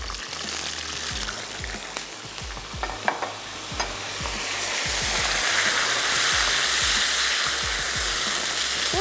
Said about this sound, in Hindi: हल्का सा फ्राई होना शुरू हो गया